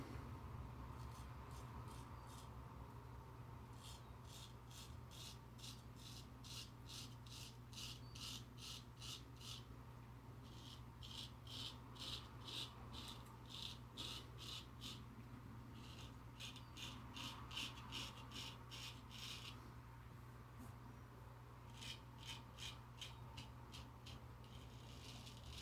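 A razor scrapes over a lathered head with shave soap, making repeated bursts of short, rhythmic rasping strokes, close and fairly quiet over a steady low hum.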